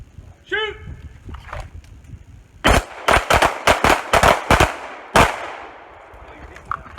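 Rapid pistol shots ring out on a combat shooting course, a quick string of about eight sharp cracks in close succession with several shooters firing, loud and near. A short voice is heard just before the shooting starts.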